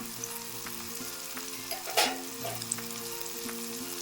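Garam masala frying in hot oil for a Konkani-style cashew curry, a steady close sizzle and hiss with one sharper crackling burst midway and light stirring underneath.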